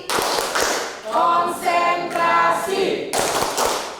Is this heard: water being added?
no